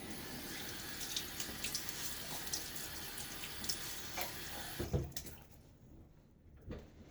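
Hard water runs steadily from a tap for several seconds, with faint splashes as it is splashed on a face, then cuts off, leaving a quiet room and a final small clunk.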